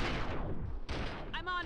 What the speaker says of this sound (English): Shoot the agent!